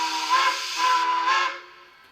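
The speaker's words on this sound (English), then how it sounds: "F1 is forward quill" A single loud, close quill whistle blast of about a second and a half from a TCS WowSound-equipped Bachmann PRR K4 4-6-2 model steam locomotive, sounded for forward travel, breathy and slightly wavering before it cuts off, with no voices.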